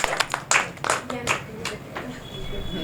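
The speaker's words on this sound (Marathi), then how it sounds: "तर त्यांच्यासाठी पण जोरदार टाळ्या." An audience at a family event in Chandrapur gives a short burst of clapping, mixed with a voice talking over it.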